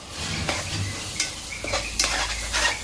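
Tomato gravy sautés in oil with a close, continuous sizzle. A spoon scrapes and stirs against the pan in several quick, separate strokes that sound at a loose, uneven rhythm.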